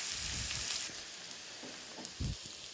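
Chopped bottle gourd sautéing in a pan, a soft continuous sizzle with a few low scraping stirs, close by and gentle.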